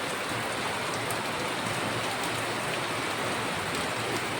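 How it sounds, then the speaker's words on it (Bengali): Heavy rain pours down in a dense, constant roar of drops hitting surfaces, loud and unbroken from start to finish with no voices. "ঝমঝমিয়ে বৃষ্টি পড়ছে রীতিমতো।"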